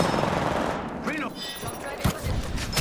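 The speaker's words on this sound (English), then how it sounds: "They're shooting at me." Bursts of automatic gunfire in the battle-royale game Apex Legends, sharp repeated shots at close range with short gaps, mixed with game voice callouts and effects.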